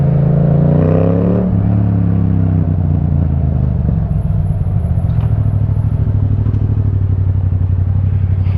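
A 2015 Yamaha MT-07 motorcycle, running rich, idles loudly up close after a brief revving rise, with a few sharp exhaust pops crackling over the steady engine rumble.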